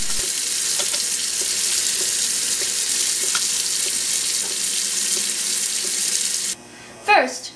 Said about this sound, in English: Be sure to wash your hands.